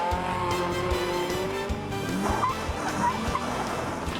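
A Toyota GT 86 race car runs on a tight, small business-park circuit, its engine droning continuously with tire noise. Brief thumps and squeals punctuate the run throughout.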